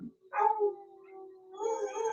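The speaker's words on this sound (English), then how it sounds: "you're just going to have to listen to this howling dog symphony for a second." Dogs in Arkansas howl at tornado sirens, a close, drawn-out mournful howl rising and holding steady, then further howls layering in near the end.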